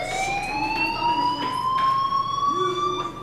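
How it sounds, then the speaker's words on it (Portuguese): A fire alarm in Life is Strange sounds a steady, slowly rising electronic tone with harmonics, loud and continuous, while a voice speaks briefly underneath. "Hey, do you hear that fire Ei, alarm?"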